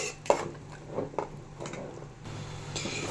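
Ragi porridge being stirred in a wide pot, soft scraping and occasional light knocks of a utensil against the pot, with a low background hum and no talk.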